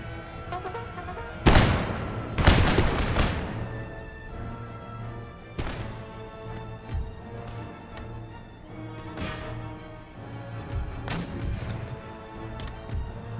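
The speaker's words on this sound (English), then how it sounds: "You men reload your carbines and try and get another volley into the general's bodyguard." Carbine volleys in Empire Total War: scattered sharp musket cracks, a few loud close shots among fainter distant ones, over a low steady battlefield hum.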